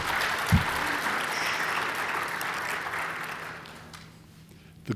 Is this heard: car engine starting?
no